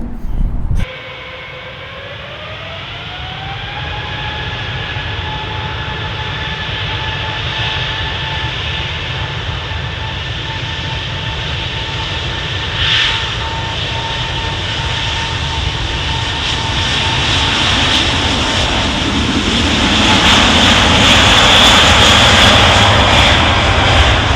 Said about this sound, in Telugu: ఫ్లైట్ గాల్లోకి అయితే ఎగిరింది